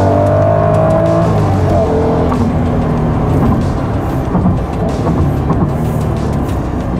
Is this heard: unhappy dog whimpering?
no